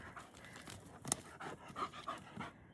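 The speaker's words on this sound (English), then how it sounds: "Look at my dog." A dog pants outdoors in a muddy backyard after a night of rain, with quick, soft breathy huffs in an uneven rhythm, close but faint.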